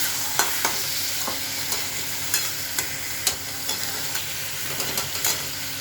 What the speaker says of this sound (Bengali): মাংসটা কষা হচ্ছে